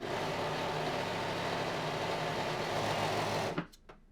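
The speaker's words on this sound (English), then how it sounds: "we're still here at our serger" A Brother 1034D serger overlock machine runs at a fast, steady whir for several seconds as it stitches fabric, then stops abruptly, leaving a couple of faint clicks.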